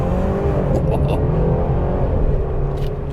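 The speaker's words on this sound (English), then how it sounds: "And the shifts are just very beautiful" Inside a 2021 Mercedes C300 4Matic accelerating hard, the 2-liter engine drones loudly and the 9-speed automatic shifts, with the engine note dipping and climbing again under a steady cabin rumble.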